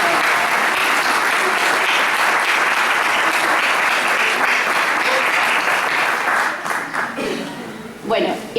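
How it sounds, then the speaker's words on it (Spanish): An audience in a hall bursts into sustained, loud applause that holds steady for several seconds, then thins into scattered claps with murmuring voices near the end. "démosle un aplauso a la señora Augusta, que vino de Santiago y está ahí atrás."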